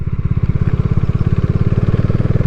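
A Bajaj Dominar 400 motorcycle engine thumps loud and close while riding, with a rapid, slightly uneven pulsing beat that suggests misfiring.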